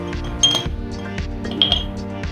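A spoon clinks against the sides of a glass while stirring coffee mate and powdered black beans, a few bright metallic taps over a steady musical bed.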